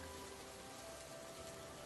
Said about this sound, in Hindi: बाहर बारिश तेज हो जाती है।